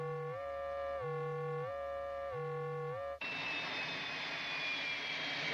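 A spacecraft liftoff engine effect from Space 1999: a pulsing electronic tone repeats three times, then gives way abruptly to a loud, sustained rushing engine roar with a high whine.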